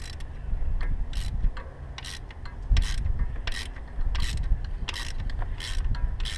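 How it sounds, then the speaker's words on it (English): A wrench ratcheting on an LB7 Duramax injector removal tool, tightening it to free a stuck injector: repeated close metallic clicks and grinding turns in short bursts, with no talking. "we are just going to tighten this until that injector is free"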